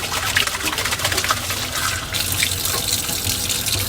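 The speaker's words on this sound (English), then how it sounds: "we want to rinse this cup out so we can put the plants back in there" A cup rinsed under a running tap, water gushing and splashing loudly and continuously, with the pitch shifting as the cup fills and is moved.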